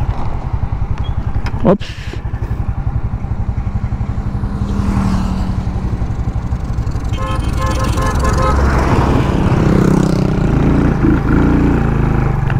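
A Motorstar Zest 110 semi-automatic motorcycle runs steadily close by with a continuous engine drone, a sharp clunk near the start and a horn-like tone later, while a rider briefly speaks over it amid road noise.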